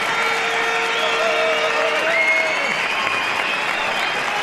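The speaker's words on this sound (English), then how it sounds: "Spontaneous applause" A sports crowd at the Hexagon Cup breaks into steady applause after a point, dense clapping filling the arena with a few faint voices and tones in the background.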